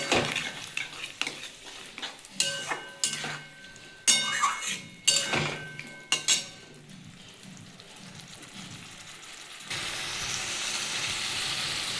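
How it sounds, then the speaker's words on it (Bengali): Curry masala with yogurt and sugar fries in a pan, sizzling under a series of spoon scrapes and knocks against the metal, with a loud, steady hiss of frying returning near the end. No one speaks. "এটা আমি আবার ভালো করে একটু কষিয়ে নেবো"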